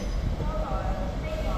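An East Midlands Railway train passes at Crewe on the West Coast Main Line, a loud continuous diesel rumble and rolling wheel noise close by.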